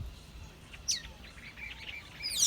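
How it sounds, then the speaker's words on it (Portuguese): Morning birdsong from small birds, faint and distant chirps and short tweets scattered across a quiet outdoor background, with one brighter call near the middle. "O silêncio é quebrado pelo canto dos pássaros de manhã."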